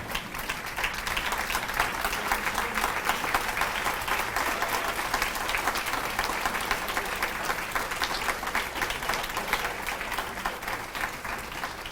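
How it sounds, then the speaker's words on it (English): A standing banquet audience at a hall of fame dinner cheers and applauds for Johnny G, dense steady clapping filling the room throughout, loud and sustained without a break. "Everybody standing and cheering Johnny G. Stand and cheer."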